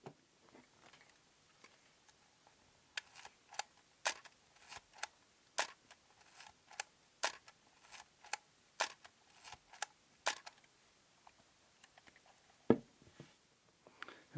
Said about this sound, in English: So let's just get the sound of the shutter.